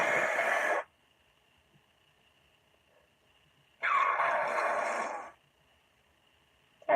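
A person blows their nose up close in two loud, forceful bursts, a short one and then a longer one, separated by a few seconds of near silence.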